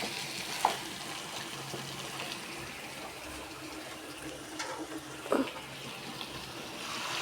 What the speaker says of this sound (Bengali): ঝোল দিয়ে দিচ্ছি।